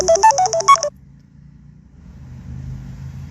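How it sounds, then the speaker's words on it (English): A mobile phone rings with an incoming call during a road trip, a short bright melodic ringtone of quick rising notes lasting under a second before cutting off, leaving low car-interior rumble. "I just got a phone call."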